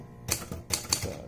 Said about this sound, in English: get ready to do some typing